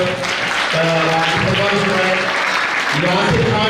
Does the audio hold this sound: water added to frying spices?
no